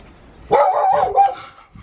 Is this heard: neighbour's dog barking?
yes